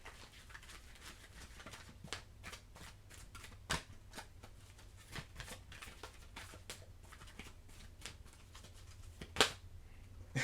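Oracle cards shuffled by hand, a quiet run of quick riffling flutters and soft slaps repeating through the stretch, with a sharper tap near the end and no talking.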